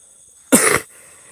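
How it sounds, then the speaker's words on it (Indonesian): Single sharp cough from a man with an itchy throat, loud and close, a quarter-second burst in an otherwise quiet bamboo valley at night. "jadi sesekali batuk untuk menghilangkan gatalnya"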